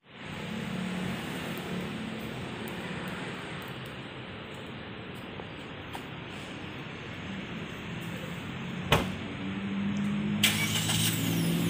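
Steady engine hum from inside a moving white Suzuki XL7 Alpha, a continuous low rumble with road noise and a couple of brief knocks near the end.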